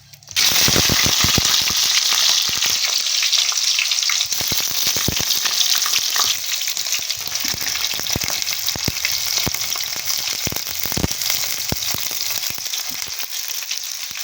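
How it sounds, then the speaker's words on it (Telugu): Onion pieces fry in hot oil with a loud, steady sizzle and scattered sharp crackles that start abruptly after a brief silence and continue without pause. "ఉల్లిగడ్డ వక్కలు వేసుకుంటున్నా"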